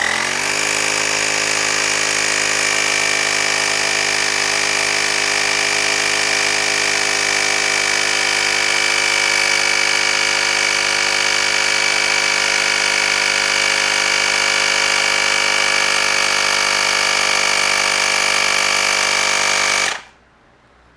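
An Auxito A301 portable air compressor runs steadily while inflating a 120/70/19 motorcycle tire from 32 to 36 PSI, giving a loud, close, continuous motorized buzz with a strong whine that holds even for about twenty seconds before cutting off abruptly.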